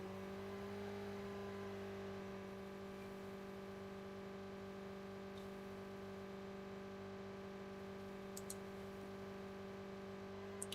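Steady motorbike engine drone from Call of Duty Mobile, holding an even pitch with a low rumble and a strong mid hum throughout, with faint clicks near the end.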